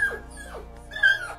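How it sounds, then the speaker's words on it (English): A puppy whimpers in a few high, thin whines that slide downward, two short cries then a longer one after a brief pause, close and alone without speech. "Now hand me the puppy."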